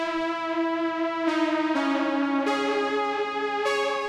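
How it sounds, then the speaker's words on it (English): A sustained synthesizer harmony line from the Oddity analog plugin, rich in harmonics, steps through several held chord changes at an even loudness without any voice. "I added a synth, which sounds like this."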